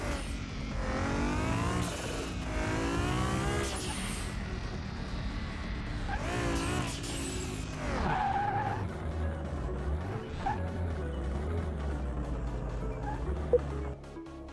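A car on a test drive in Car Mechanic Simulator 2021 revs and accelerates with shifting engine pitch, squealing and skidding tires, and changing throttle, loud and close, with a bump near the end.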